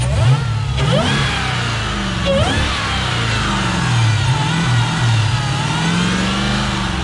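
A Chrysler 300 with a Hellcat conversion, close by, rises in pitch with a couple of quick revs, then settles into a deep, steady rumbling idle.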